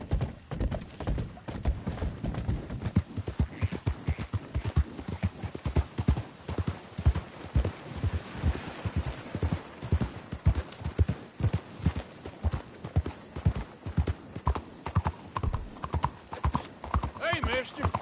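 Rapid, rhythmic hoofbeats of a galloping horse in Red Dead Redemption 2 pound steadily throughout, close and continuous, with occasional voices calling over them.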